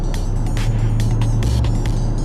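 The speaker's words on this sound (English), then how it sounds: "if you want a big American V8, I honestly can't imagine one that's better than this right here" A Dodge Challenger Scat Pack with its 392 V8 engine rumbles with a deep, steady low-pitched drone, close and loud, with some intermittent higher bursts over the throb.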